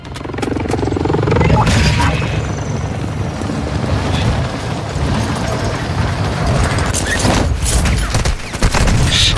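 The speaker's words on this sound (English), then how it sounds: "Stop shooting me!" Loud, dense gunfire in the Warzone battle royale game, sustained bursts and crackling shots with heavy rumbling over nearly ten seconds, sharper cracks near the end.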